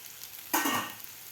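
Sliced bitter gourd (karela) fries in a pan over a medium gas flame. A sudden short burst of sizzling hiss flares up and then quickly dies down, with nothing else heard.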